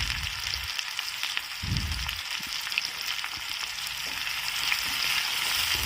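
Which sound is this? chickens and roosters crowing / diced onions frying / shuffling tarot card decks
diced onions frying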